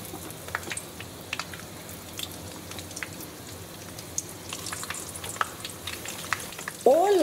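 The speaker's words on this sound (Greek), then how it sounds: "τα τηγανίζομαι σε καυτό λάδι" Battered zucchini flowers frying in hot oil, a close, steady crackling sizzle with scattered pops, ending with a louder burst of spattering.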